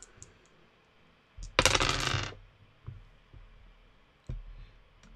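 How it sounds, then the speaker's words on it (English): Three dice rolled across a tabletop during a tabletop game session: one loud, dense rattle of tumbling dice, followed by a few scattered light clicks and taps as they settle, close by with no talking. "Rolling 3 dice here."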